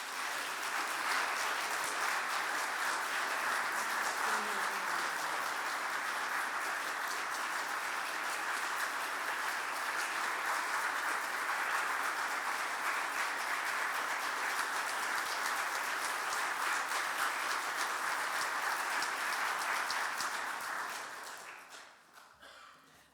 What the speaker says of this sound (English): Now, one more round of applause for our chapel speaker this morning